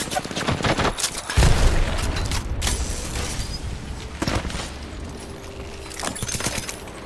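Rapid gunfire bursts from a weapon in Apex Legends, with sharp shots, mechanical clicks and a heavy thud mixed among game effects and a faint voice.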